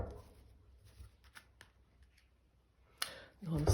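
A brand new tarot card deck fresh out of the box is shuffled in short, faint riffling bursts and papery snaps, quiet and close, with a louder clatter near the end.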